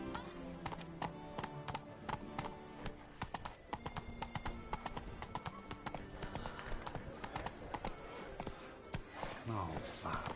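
Roach the horse's hooves clip-clop steadily in a video game, a continuous trotting rhythm with an occasional whinny, heard under voices.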